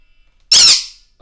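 A pet bird lets out a single loud, piercing squawk right beside the microphone, a short harsh burst that cuts through an otherwise quiet room as an alarm goes off nearby.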